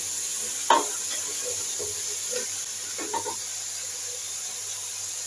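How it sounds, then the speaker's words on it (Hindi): Cumin, fenugreek seeds, carrots, potatoes and turnips fry in oil for a dhaba-style mixed vegetable curry, with a soft steady sizzle broken by a few light stirring clinks and scrapes. "गाजर, आलू और शलजम ये इसमें मैं डाल के फ्राई कर दूँगी"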